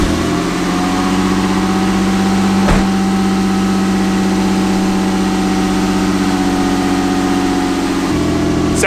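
Car engine idles steadily after an ECU reset via the FI fuse, a loud, constant low rumble with a brief sharp click near the start and a slight change in tone toward the end.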